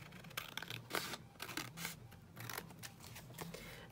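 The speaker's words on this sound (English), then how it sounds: "So I'll do all of my cutting first, I think, and then do all of my folding." Scissors snip repeatedly through collage book pages while cutting paper pockets, a close, quiet run of crisp, irregular cuts with faint rustling between them.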